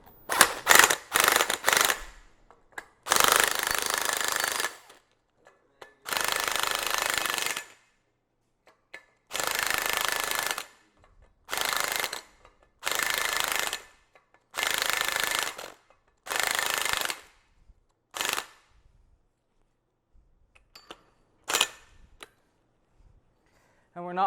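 A differential pinion nut on a Toyota Land Cruiser 9.5-inch axle is snugged down with a power tool during a gear install. The close, loud mechanical bursts come in about a dozen uneven stretches, separated by silent gaps.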